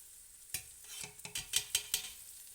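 Washed lentils being stirred in a hot frying pan, a spoon scraping and clacking in quick, irregular strokes over a faint sizzle, close and fairly quiet.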